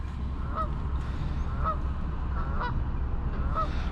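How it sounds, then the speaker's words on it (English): Several Canada geese honking at a lakeside fishing spot, calls arriving in pairs about once a second over a constant low outdoor rumble, with no voices. "Those geese are loud, Canada geese."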